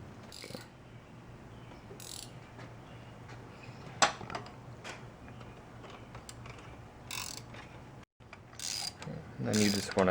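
Ratchet clicking while a tensioner nut is tightened on a Honda Civic idler pulley, a run of light, close mechanical clicks over low background hum.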